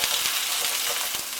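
Sausages and onion frying in a pan for devilled sausages, giving a steady, fairly quiet sizzle with faint stirring scrapes and no talking.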